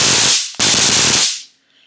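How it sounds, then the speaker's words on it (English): A handheld stun gun with a built-in flashlight fires in two loud, close bursts of harsh electric crackle split by a brief gap, then cuts off into near silence. "Hopefully, you never have a time that you actually have to fire off the stun gun"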